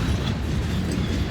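Freight train cars roll past on the tracks close by, a steady rumbling clatter of wheels without pause.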